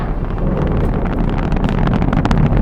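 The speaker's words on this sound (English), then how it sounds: "We have ignition sequence start. The engines are on." Saturn V rocket engines at liftoff roar as a loud, continuous low rumble with crackling bursts and buffeting, sustained and heavy throughout with no voices.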